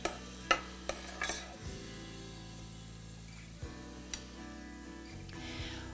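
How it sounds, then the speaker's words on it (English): Barley grains stirred and sautéed in a pan with a few clinks of a utensil against the pan at the start, under a low steady hum and close, quiet scraping. "I'm going to add our barley, give it a stir, and let it saute for just a minute or two."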